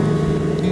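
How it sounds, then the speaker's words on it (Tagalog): A motorcycle engine drones steadily while riding on an expressway, a loud, continuous low hum with road and wind noise and no break in the sound. "at yung tunog ng makina sa ilalim ko."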